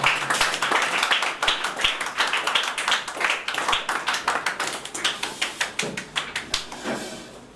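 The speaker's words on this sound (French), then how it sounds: "Je voudrais qu'on l'applaudisse également" An audience at a student reading-competition broadcast claps in a dense, lively burst that settles into a rhythmic, fairly loud beat before tapering off, without talk.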